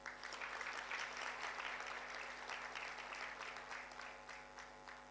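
Applause from the audience at a high-level leaders' breakfast meeting, a sustained crackle of many hands clapping that is fairly faint and gradually tapers off toward the end, with no voices.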